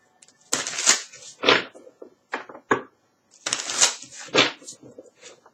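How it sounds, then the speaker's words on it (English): Tarot cards being shuffled by hand, with two bursts of crisp riffling and flapping card noise separated by short pauses, close and moderately loud, with no talking. "Allow me to shuffle for a second"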